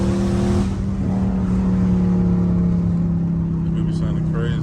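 A catless Dodge Charger Scat Pack drones steadily while driving, its engine and exhaust giving a loud, deep, sustained rumble with a slight swell and fall in pitch, heard from inside the car.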